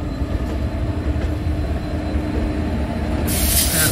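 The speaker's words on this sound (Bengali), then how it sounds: "ট্রেনটা এবার এগিয়ে চলল।" Uttarbanga Express train rolling onward after leaving Rampurhat station at night, a steady loud rumble of wheels and carriage with a brighter hiss rising near the end, no voices.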